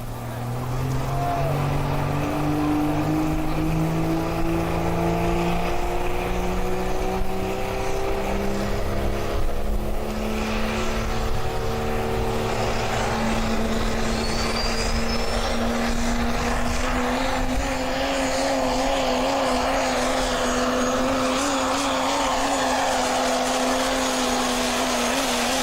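A pulling truck's engine roars loud and close through a full truck pull run at the 2026 BSTP Pulling For Hope, its pitch climbing steadily as the truck drives down the track, with crowd noise underneath.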